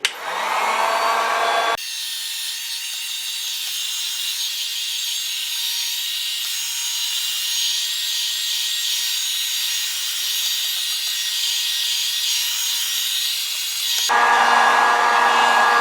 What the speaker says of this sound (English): get the heat gun out and start going to town